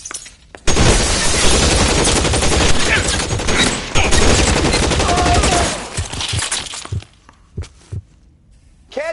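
Gunfire in L.A. Noire: a loud, sustained fusillade of rapid shots close by for several seconds, thinning into scattered single reports and thuds toward the end, with a voice shouting briefly.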